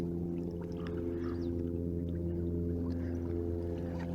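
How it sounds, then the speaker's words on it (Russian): Low, steady engine drone of a tour boat on Lake Baikal with a constant hum, heard close and unbroken, with faint water sounds over it. "На Байкале звук от кораблика"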